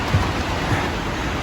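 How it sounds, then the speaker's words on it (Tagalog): Heavy typhoon rain pours down in a steady, loud, dense roar with no pauses and no voices, the sound of a storm that is bringing flooding. "Lakas po ng ulan."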